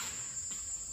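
Crickets chirp in a steady high-pitched trill outdoors, continuous and moderately loud throughout with no talking.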